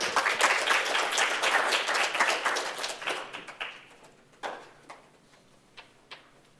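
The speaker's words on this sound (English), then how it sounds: "Let's give them another round of applause." An audience at a student senate swearing-in applauds, first as dense clapping and then thinning into a few scattered claps before fading out.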